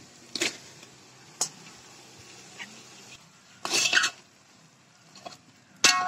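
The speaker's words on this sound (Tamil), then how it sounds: "இந்த ஸ்டேஜ்ல சிக்கன் ஆட் பண்ணிக்க போறோம்." Marinated chicken added to a pan of sautéed masala with mint and coriander, heard as several separate scraping, rasping stirs and clinks of utensil on pan between quiet gaps, close and fairly faint, no talk.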